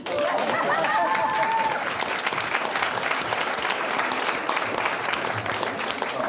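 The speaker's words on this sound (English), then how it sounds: "You're supposed to clap now." Wedding guests applauding in a barn hall, a warm sustained wash of clapping with some cheering voices mixed in.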